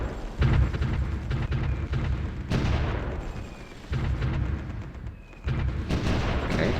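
Artillery fire in the strategy game Supreme Ruler Ultimate, a series of heavy booming blasts every second or so over a continuous rumbling battle bed, loud and dense throughout.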